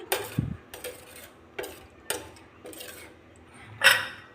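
Green peas stirred into khichdi in a pressure cooker, a series of separate metallic scrapes and clinks from a spoon against the pot, close and fairly quiet, with no talking.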